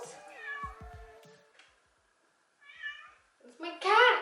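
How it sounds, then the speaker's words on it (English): A house cat meows several times up close, with rising and falling calls, a pause in between, then a louder, more insistent meow at the end, with a voice mixed in. "It's my cat."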